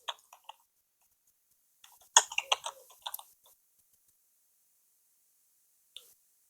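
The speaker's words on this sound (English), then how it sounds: "the typewriting, the typing. So we'll just play it." A typewriter typing sound effect plays as sparse, crisp key clicks, a few quick taps, then a short rapid burst, and one last lone click after a pause.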